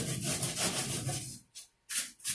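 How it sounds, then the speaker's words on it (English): Hand sanding a crooked panel on a widebody car build, with sustained rough rubbing strokes up close, a brief pause, then more scraping passes. "a lot of times I sand it like this. You really got to sand back here to level it out."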